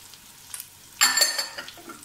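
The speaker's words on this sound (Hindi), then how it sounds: "और अब इसे 4 से 5 मिनट हम भूनेंगे लहसुन में चिकन को।" Chicken being fried in butter with garlic and ginger paste, quiet sizzling that swells into a louder burst of crackle and stirring midway, then settles to a lighter frying hiss.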